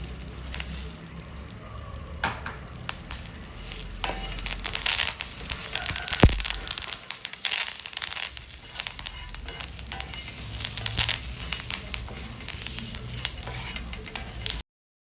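Curry leaves and spices dry-roasting in a pan for sambar powder give a steady, close crackle and sizzle with scattered sharp pops and stirring scrapes, with no voices.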